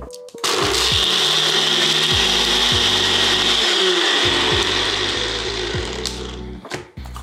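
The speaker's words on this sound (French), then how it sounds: "on blende jusqu'à ce qu'on obtienne une texture parfaitement smooth" A blender runs loud and steady as it blends a non-alcoholic piña colada, its motor whirring and the contents churning, with the pitch shifting now and then before it winds down and stops near the end.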